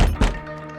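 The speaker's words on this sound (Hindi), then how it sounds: "पिताजी दरवाजा क्यों खटखटा रहे हैं?" A single hard thunk against a door at close range, with a short ringing decay behind it and no voices over it.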